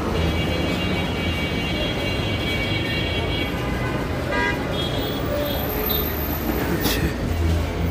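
Continuous roar of a Dhaka metro train running through Uttara station, with a faint tonal hoot and brief high squeals late on; no clear talking.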